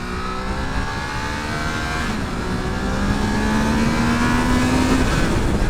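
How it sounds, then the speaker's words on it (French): A Triumph Trident 660 three-cylinder motorcycle engine revs steadily past 6000 rpm, its rising tone climbing smoothly and loudly for several seconds without any talk. "elle a une bonne sonorité, hein. Dès qu'on lui monte dans les tours, un peu plus de 6000 tours là"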